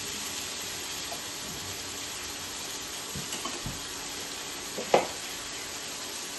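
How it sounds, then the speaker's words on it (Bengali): Potatoes and green plantain being sautéed and stirred in a pan, a faint steady sizzle with a few soft scrapes and one sharper clack of the spoon. "সব কিছু দিয়ে আমি খুব ভালো করে কষিয়ে নেব।"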